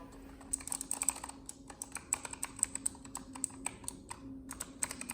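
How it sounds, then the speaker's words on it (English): Keys clatter on a Razer Huntsman Elite keyboard, with quick, uneven, close taps in a continuous run of typing and a faint steady hum beneath. "I'm just testing out all the keys because in previous Razer keyboards I've had, some keys feel different."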